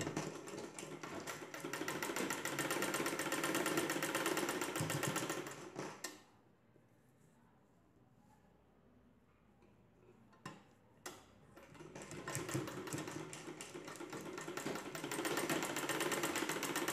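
Sewing machine stitching the shoulder joint of a nighty, a fast even mechanical rattle running loud and steady, pausing into near quiet in the middle with a couple of clicks, then resuming.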